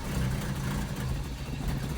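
A Toyota 22R engine in a pickup truck idles while warming up after a cold start, a steady low rumble, close by and continuous, with no voices.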